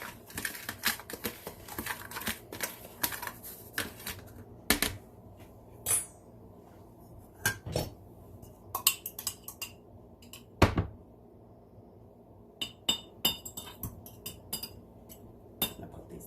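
Utensils clink and scrape against a bowl while batter is mixed for small pieces of perch caught ice fishing, sounding as a series of irregular close taps and knocks with short quiet gaps.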